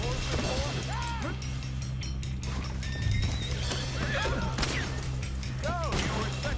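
A horse in the Red Dead video game neighs repeatedly over the constant drumming of galloping hooves during a chase, with other game sounds mixed in.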